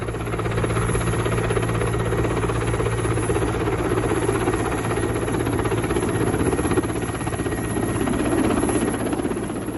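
A helicopter flies close by, its engine and rotor making a loud, steady, throbbing drone that continues without a break and with no voices.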